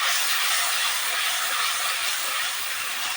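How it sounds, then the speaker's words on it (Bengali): Steady, dense frying hiss of masala with turmeric and ground cumin cooking down in hot oil in a pan for a tangra fish curry, continuous and close with no talk. "দিয়ে মশলাটাকে ভালোভাবে কষে নিতে হবে"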